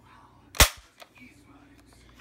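A rubber band powered Nerf sniper shotgun fires one sharp, loud, close snap, followed by a few faint mechanical clicks and rustles.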